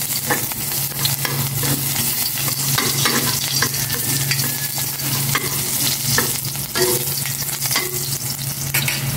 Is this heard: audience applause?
no